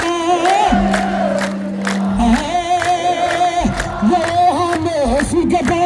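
A crowd at a welcoming celebration lets out loud, sustained wavering ululation mixed with cheering and whoops, continuous and close throughout.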